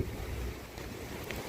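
Strong wind of 100 to 120 km/h at the Mediterranean seaside buffets the microphone in a low, rumbling roar with gusty surges, close and loud, alone for a brief moment without speech.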